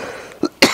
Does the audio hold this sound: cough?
yes